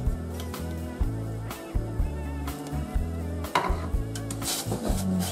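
A spoon scrapes and clinks around a metal pot of pickled cabbage brine with salt in a steady, repeated stirring rhythm, close up, with a soft bubbling underneath.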